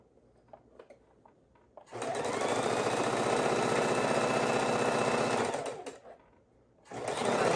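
A sewing machine stitches quilt blocks together in one steady, loud run of about four seconds, then stops briefly before starting again near the end. No one speaks.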